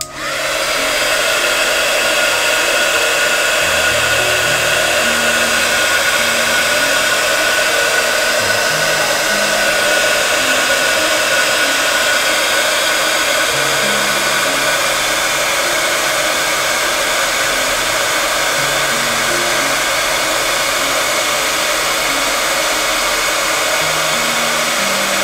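A hair dryer blows steadily and loudly on watercolour paint for the whole stretch, a continuous close whir with no pauses and no talking.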